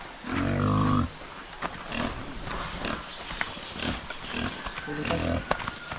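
A farm pig up for sale squeals and grunts loudly in two strong bursts near the start and near the end, with scattered outdoor chatter and rustling in between.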